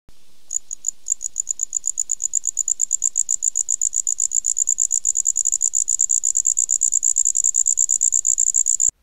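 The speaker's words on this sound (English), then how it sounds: "the handsome trig, also known as the red-headed bush cricket" A handsome trig, the red-headed bush cricket, chirps in a fast, steady series of short high trills that repeat evenly and close up for the whole stretch, with nothing else heard.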